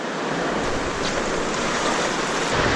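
Whitewater river rapids during a stormy rafting trip in New Zealand, with big holes, hydraulics and waves: a steady, loud broadband rush of churning water filling the scene without pause, no voices.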